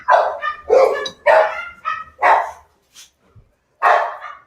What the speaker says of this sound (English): Maybe your dogs are losing it.